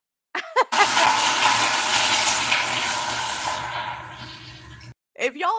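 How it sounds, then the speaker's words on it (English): Automatic sensor toilet flushing with a loud, sustained gush and rush of water lasting about four seconds, briefly preceded and followed by a voice. "it keeps on flushing the toilet"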